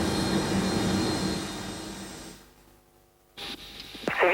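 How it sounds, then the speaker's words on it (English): An Airbus A320 builds toward takeoff thrust on its takeoff roll, a broad steady jet-engine roar that fades to a quieter hum before cockpit clicks and rattles return. "So we're starting our takeoff roll in the A320"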